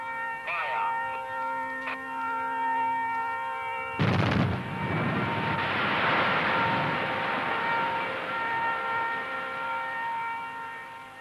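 A sudden loud limestone quarry blast with staggered detonations breaks in after a few seconds and rolls into a long rumbling roar that slowly fades, with a steady tonal hum underneath throughout.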